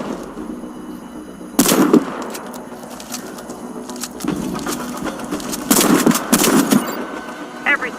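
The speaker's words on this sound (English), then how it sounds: "Shoot the target while sliding." Gunfire in Warface medic training while sliding and shooting targets: sharp loud shots in bursts, one early volley then rapid clusters later, with game movement noise between and a narrator's voice in places.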